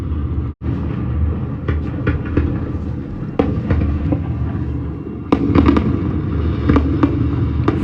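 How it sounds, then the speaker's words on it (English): New Year fireworks explode in London as a series of sharp bangs and crackles, irregularly spaced over a constant rumbling crowd-and-city background, some bursts close and loud. "Fireworks pretty."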